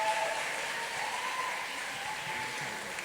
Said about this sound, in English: give a warm round of applause to Joey